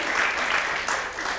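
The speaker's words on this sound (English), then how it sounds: "Round of applause" A brief, dense round of applause from an event audience, steady and fairly loud for its whole length.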